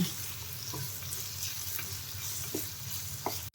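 Bottle gourd sambharo with salt sizzles quietly in a pan, with a steady frying hiss and light, intermittent stirring scrapes, ending in a sharp click.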